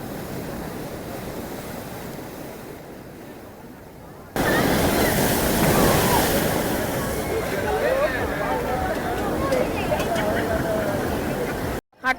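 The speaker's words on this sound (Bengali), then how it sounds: "কিরকম শব্দ, ভয়ঙ্কর শব্দ ঢেউয়ের।" Heavy sea waves crash and roar onto Old Digha beach at night, a dense, loud rush of surf with wind buffeting the microphone, swelling sharply partway through; voices can be heard talking over it.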